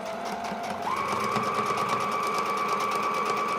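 A sewing machine runs continuously at close range while stitching a sleeve onto a trench coat, a steady rapid mechanical whir with a rhythmic needle chatter and a slight rise in pitch as it speeds up.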